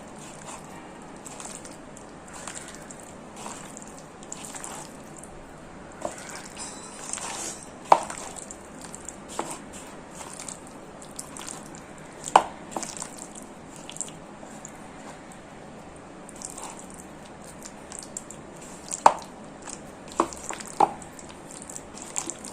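Fish pakora batter of flour and fish is kneaded and mixed by hand in a bowl, making soft, wet squishes and slaps. The sounds are close and irregular, with a few sharper taps against the bowl and no voices.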